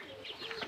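Chickens on a Kenyan poultry farm give a short burst of soft clucking, close and fairly faint, with no talking.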